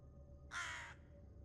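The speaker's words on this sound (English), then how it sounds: "that crow almost got me" A single crow caw in a video game, one short harsh call lasting about half a second over a quiet ambient background.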